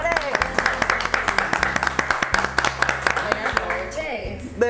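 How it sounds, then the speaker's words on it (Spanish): Studio audience of a Spanish-language TV talk show clapping to welcome two guests, a steady burst of applause with music and voices mixed in beneath it. "Vamos a recibir con un aplauso"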